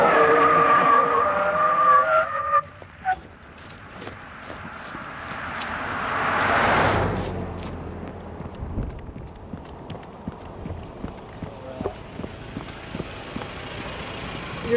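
Toyota Tacoma brakes hard from 60 mph, with a loud tyre skid and squeal in the first seconds, then a swelling scrub near seven seconds as the truck comes to rest. Quieter vehicle rumble and small knocks follow.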